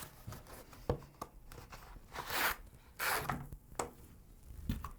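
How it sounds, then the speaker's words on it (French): Adhesive tape being peeled off the packaging of a budget mechanical gaming keyboard, heard up close as a few short rasping tearing bursts mixed with scattered crinkles and light handling clicks. "Je suis en train de me battre avec un bout de scotch"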